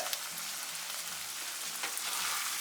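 Mutton roast sizzles steadily while dry-roasting in a pan with its masala, giving a dense, continuous crackle with faint stirring scrapes and no voices.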